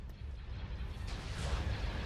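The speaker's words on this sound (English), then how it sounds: "Opening fire on the torpedo launchers." Starship weapons opening fire on torpedo launchers in a Thrawn's Revenge space battle, a dense continuous rumble of heavy cannon blasts with low booming thuds swelling toward the end, no talk.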